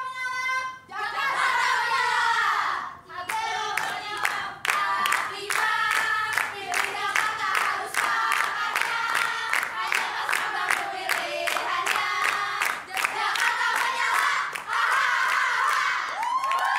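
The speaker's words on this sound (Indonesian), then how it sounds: "Saya ingin mendengar dulu yel-yel dari pasangan nomor urut 3" Supporters of candidate pair number 3 at a debate chant a rhythmic yel-yel together, loud massed voices in repeated shouted phrases with clapping, keeping a steady beat throughout.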